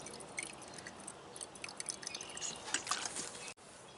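Bottled drinking water being poured into an excavator's battery cells, a faint wet trickle with small drips and splashes that build toward the end, then stop abruptly.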